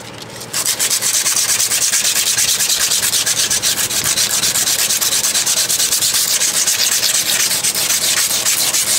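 Round sandpaper scrubs a boat trailer wheel hub in quick rhythmic back-and-forth strokes, a loud, close, gritty rasping that goes on steadily with no talking.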